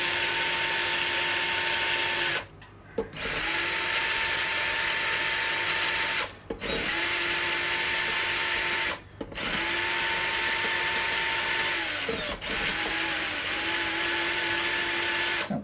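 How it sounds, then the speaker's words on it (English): Strings being taken off a Fender Mexican-made Strat with a power tool: four long, steady whirring runs with brief pauses between them, close and loud, and no talk. "Time to now take the strings off."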